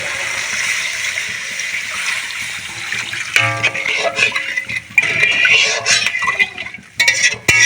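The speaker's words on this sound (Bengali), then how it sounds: "সব মশলা ভালো করে কষিয়ে নিয়েছি এখন আমি জল অ্যাড করে দেবো" Water poured into a pan of fish curry in a home kitchen: a steady pour splashing into the pan, followed by clinks and stirring sounds, with no talking.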